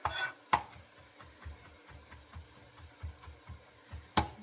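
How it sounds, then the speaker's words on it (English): A knife taps steadily on a cutting board, chopping garlic in a quick, even rhythm, with a couple of sharper knocks at the start and end. "These excellent chopping skills here."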